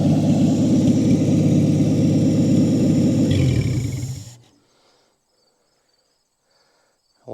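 A 1959 Chevrolet Biscayne engine with a leaking carburetor and no exhaust runs loud and rough at a steady idle, then cuts off abruptly after about four seconds, leaving near silence.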